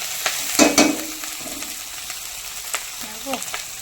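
Eggplant and green chillies fry in hot oil, a close crackling sizzle with occasional stirring scrapes and clinks against the pan, and a voice briefly murmuring in the background.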